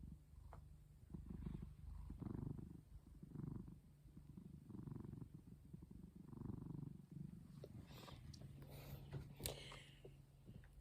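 A cat purrs while lying in a lap on a cold, drizzly day, a soft, continuous rumbling heard close but faint, joined near the end by a few brief rustles.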